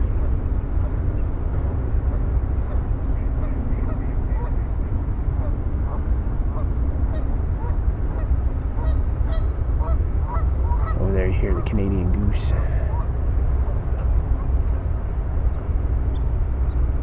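Geese honking as they come in to land at a riparian preserve in the early morning, a burst of calls rising near the end over steady low ambient rumble, with a faint hum of distant aircraft or traffic.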